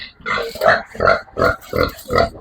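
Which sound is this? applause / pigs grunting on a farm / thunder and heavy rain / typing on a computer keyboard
pigs grunting on a farm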